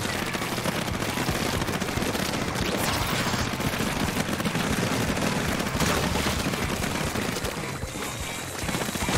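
Dense, continuous weapon fire from a Splatoon 3 match, a steady rapid barrage of shots and splatter that stays loud throughout with no voices.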